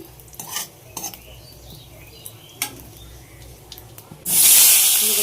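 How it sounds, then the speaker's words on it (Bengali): Cumin, dried chillies and bay leaves fry in hot oil with scattered soft stirring knocks, then a sudden loud, bright hiss surges up near the end. "তেলটা একটু গরম হয়ে গেলে মানে উল্টো পাল্টা বলে ফেলেছি মশলা একটু ভাজা ভাজা হয়ে গেলে"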